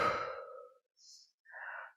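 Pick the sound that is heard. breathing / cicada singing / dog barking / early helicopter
breathing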